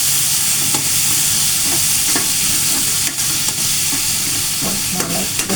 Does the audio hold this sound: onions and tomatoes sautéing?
yes